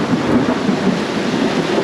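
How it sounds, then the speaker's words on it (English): Heavy rain pours steadily during a hike in Shenandoah National Park, with rumbling thunder rolling underneath the dense, close hiss of the downpour. "so it's been raining for like 7 hours"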